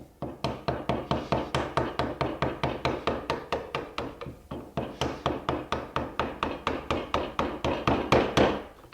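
A wooden mallet strikes a chisel while mortising wood, a rapid steady train of sharp close knocks, around three per second, briefly pausing midway, with no talking.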